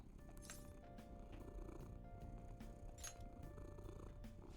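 A cat purrs steadily and softly, a continuous low rumble heard up close, with faint clicks and background sounds and no speech.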